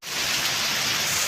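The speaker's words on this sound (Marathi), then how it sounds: "पाऊस बघा जोरात चालू झालेला आहे" Heavy first monsoon rain in the Konkan coast at Vengurla pours down in a loud, dense, unbroken hiss of downpour, close and steady throughout.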